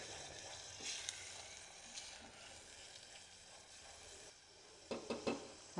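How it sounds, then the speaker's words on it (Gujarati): A spice paste sautés faintly in a pressure cooker, giving a quiet, steady sizzle broken by a few light scraping and stirring clicks near the end. "તો કુકરમાં ઉમેરેલી પેસ્ટ સારી રીતે સાંતળી લેવાની છે।"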